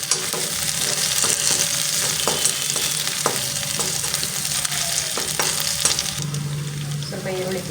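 Garlic, green chillies and cumin frying in a pan, a steady loud sizzle throughout with light clicks of stirring, close up and without any talk.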